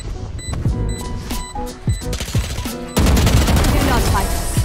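Rapid bursts of gunfire crackle in a shooter video game, with single shots and automatic volleys close and loud among game sound effects, turning into a dense, continuous barrage in the second half.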